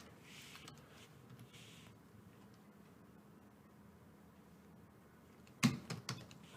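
Keys tapped on a computer keyboard while writing Python code, a faint sparse clicking under quiet room noise that ends in a short, louder burst of keystrokes.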